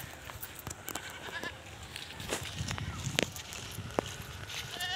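Goats loose on a farm, bleating in several scattered calls near and far over rustling outdoor background, with brief faint voices in between.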